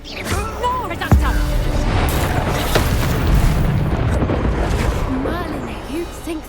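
A Reducto blasting spell detonating in Hogwarts Legacy, a deep booming burst about a second in, over continuous rumbling battle noise and game voices.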